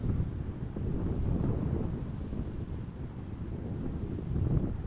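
Gusting wind at Amsterdam Schiphol Airport buffets the microphone as a steady low roar that swells and eases over several seconds, with no talk.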